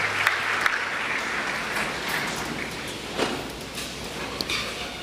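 A church congregation applauds, a steady, even wash of many hands clapping that continues throughout, with a few sharper claps standing out.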